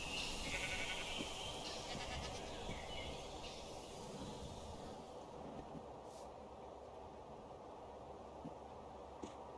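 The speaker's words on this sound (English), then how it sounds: "Little sheep." Sheep bleating in Minecraft, a few short faint bleats over a low ambient background with no talking.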